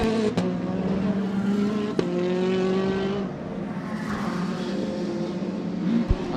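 Modified rallycross cars racing at Mondello Park during a British Rallycross Championship round, engines droning and shifting pitch as several cars pass, with brief sharp bangs and a rising rev near the end.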